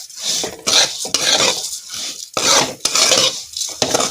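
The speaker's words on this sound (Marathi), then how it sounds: "तर आपण ना कशा शेवाळ्या लालसर भाजून घ्यायच्या" Vermicelli is dry-roasted in a pan until reddish while a spoon stirs it in quick, repeated scraping strokes. The strokes sound close and rhythmic, with no talk over them.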